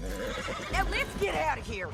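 A horse whinnies in the Red Dead Redemption 2 video game during a tense escape, the neigh rising briefly over rumbling hoofbeats and an urgent spoken line.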